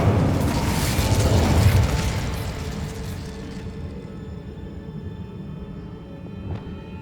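Incendio, a fire spell in Hogwarts Legacy, erupts as a loud roaring whoosh with a crackling burst for about three seconds, then fades into a quieter mechanical hum with faint clicks and no voices.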